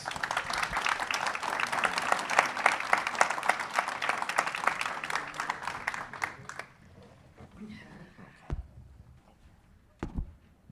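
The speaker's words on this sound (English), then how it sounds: "Please join me in giving them a round of applause" An audience applauds after a panel discussion on American nuclear energy, a loud sustained round of clapping that dies away after about six seconds, followed by scattered thumps and quiet room noise.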